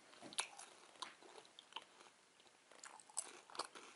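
Crisp, close biting and chewing of a crunchy snack from a Lidl Greek range, with irregular crunches and short pauses between bites, heard alone without talk.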